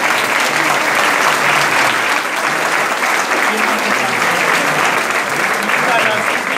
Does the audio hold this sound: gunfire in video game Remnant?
no